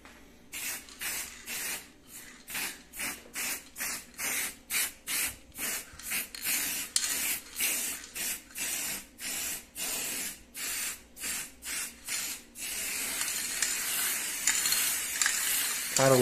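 Short, regular bursts of hissing from a high-temperature spray paint can coating an appliance, close and loud, giving way near the end to one long continuous spray.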